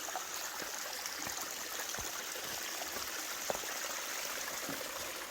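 Rain runoff streams over rocks on an Appalachian Trail mountain path, a faint, constant trickling wash with small splashes.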